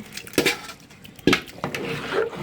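Cooked, pre-braised chicken meat goes into a biryani pot with rice, making several close clanks and scrapes of a spoon against metal, spaced irregularly with quieter shuffling between.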